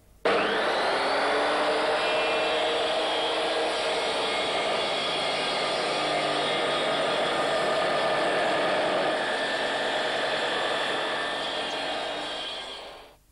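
A Triton power saw cuts through wood, starting abruptly with a loud, continuous whining roar that holds for about twelve seconds before winding down.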